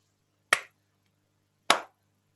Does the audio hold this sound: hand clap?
yes